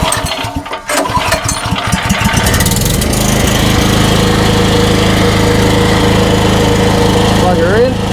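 A 3800-watt, 4.75 kVA four-stroke Raptor generator runs with a loud, steady engine drone that settles into an even rumble after a brief uneven start, close to the microphone.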